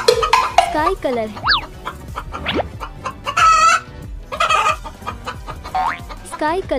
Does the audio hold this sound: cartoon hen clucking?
yes